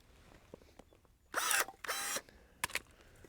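A cutting tool bites through a willow branch just under an inch thick, making two close, harsh bursts of grinding, crunching noise, then a brief double snap, with quiet room tone between.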